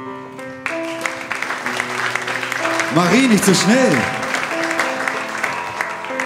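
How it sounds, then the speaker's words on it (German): Audience applause welcoming an elderly woman onto a stage at a live show, running under someone speaking to her, with a musical accompaniment and a short sung, wavering vocal part in the middle. "Begrüßen Sie also bitte mit einem donnernden Applaus die älteste Frau im Netz"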